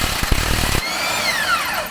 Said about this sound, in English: That's why I like impacts. It makes everything so much easier.